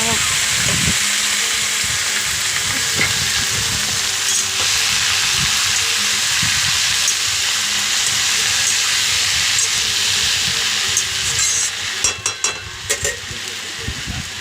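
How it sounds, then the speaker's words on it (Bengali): Leafy greens fry in a pan with turmeric and salt, giving a steady, loud broadband sizzle throughout, with stirring scrapes and clatter near the end; no one talks. "শাক ভাজতে ভাজতে আমি আবার একটু হলুদ দিয়ে দিলাম"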